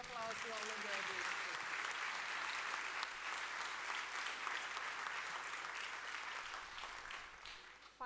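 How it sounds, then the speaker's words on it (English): Sustained applause from a large audience honoring graduates at a 2019 graduation ceremony, steady dense clapping filling the whole stretch and easing slightly near the end, with a voice audible briefly at the start. "Give a big hand of applause to all the graduates."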